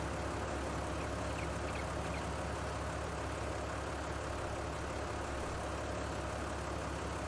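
Tractor engine in Farming Simulator 22 idles with a steady low rumble throughout, moderately loud and continuous with no talk over it.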